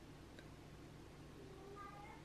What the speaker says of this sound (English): He is literally running around the house, our cat.